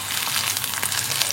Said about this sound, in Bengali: করলাটা কড়া করে ভাজছি